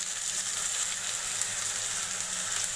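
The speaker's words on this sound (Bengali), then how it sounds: "আলুটা প্রথমে দিয়ে ভেজে নেব।" Potatoes frying in a pan at the start of a red amaranth stalk chorchori, a steady, dense sizzle that stays loud and even throughout with no voices.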